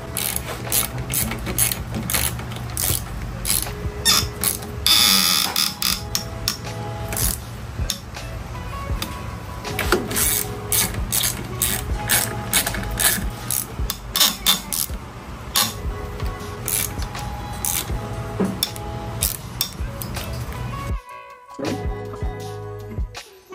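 A ratchet wrench tightens hardware on the top triple tree of a salvage crashed 2019 Suzuki GSX-R750 during a rebuild, giving steady close clicking with metallic clinks that run almost continuously before stopping near the end.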